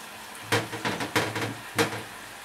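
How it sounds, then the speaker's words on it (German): Floured trout fillet laid into a hot pan, giving several sharp bursts of sizzling and spattering that rise and fade, fairly close, with quiet pauses between. "das muss jetzt schön anbraten von einer Seite"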